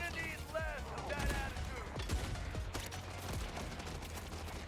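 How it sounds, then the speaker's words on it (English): Turret gunfire in the video game Borderlands rattles in dense, overlapping bursts throughout, mixed with mechanical clanks and game effects, while a voice talks over the shooting. "I hate the turrets so much."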